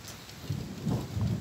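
Rain falls steadily during a storm over Porto Alegre while low thunder rumbles in the distance, faint and continuous.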